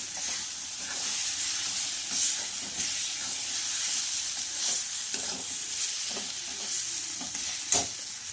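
Semolina halwa being stirred in a pan with boiling water added little by little, a steady hiss and sizzle of steam with soft scraping strokes throughout, fairly close and without voices.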